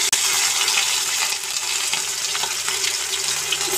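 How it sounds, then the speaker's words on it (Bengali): Pieces of large pomfret fish sizzle steadily in hot, smoking oil, a close, dense crackle running without break and with no talking. "আমি মাছগুলো একে একে তেলের মধ্যে দিয়ে দিলাম,"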